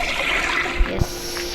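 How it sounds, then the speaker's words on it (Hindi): A toilet flushes in the Granny horror video game: steady rushing water noise fills the clip, broken by two dull thumps, and no one speaks. "और क्या हम इसको फ्लश कर सकते हैं?"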